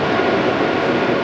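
A Monarch Model 61 toolroom lathe, 17 x 30 inch, runs at 112 RPM with a steady, loud, continuous mechanical hum and rumble that holds even and unbroken throughout, with no talk.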